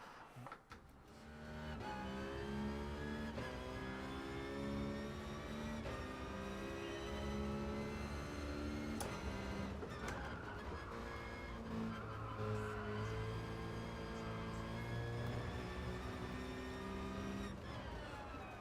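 A Citroën GT Group 4 race car in the GT Sport driving game holds a continuous engine drone that climbs and drops in pitch through gear changes and corners, playing quietly with no voices over it.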